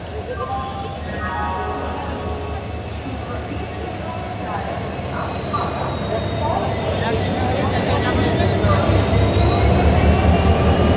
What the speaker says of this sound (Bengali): হাওড়া পুরী এক্সপ্রেস হলো ভারতীয় রেলওয়ের অন্তর্গত একটি সুপারফাস্ট এক্সপ্রেস ট্রেন